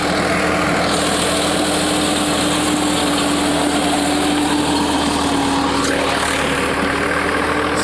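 A Sonalika 35 tractor engine runs steadily and loudly nearby with a 7-foot rotavator attached, a constant mechanical drone with a steady hum throughout.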